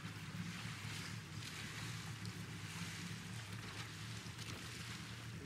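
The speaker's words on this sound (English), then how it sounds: "Couple waves here." Waves wash and slap against the hull of a sailboat under sail during the NC Governor's Cup regatta, a steady near rush of water with wind noise over the microphone and no talking.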